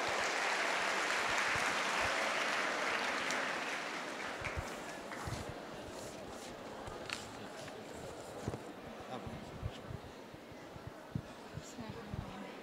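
Applause breaks out at a reading-project award ceremony in Tokat, loud and dense at first, then fading over a few seconds into scattered claps and low room noise.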